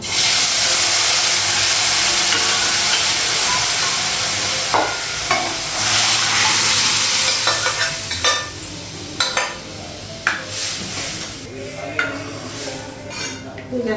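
Dal of lentils simmering in a pot on a gas stove in a home kitchen, a steady steamy hiss and bubbling throughout, with scattered sharper clinks and stirring knocks growing more frequent in the second half.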